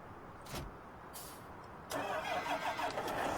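A tractor engine in the Farming Simulator 19 video game cranks over twice, then catches and settles into a steady, even idle.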